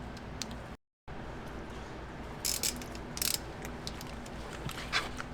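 A torque wrench ratchets on the transmission filter bolts of a Jeep Patriot or Compass with a CVT, giving a few short, quiet bursts of clicking over a low, steady background with no talking.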